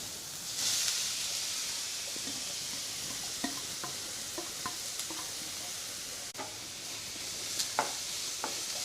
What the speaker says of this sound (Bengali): গ্যাসের ফ্লেমটা লো মিডিয়াম রেখে পেঁপেটাকে হালকা করে একটু ভেজে নেব